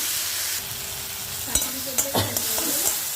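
Eggplant fries in a pan with tomato, onion and green chili, giving a steady close sizzle throughout, broken by several scraping stirs and clunks of the utensil.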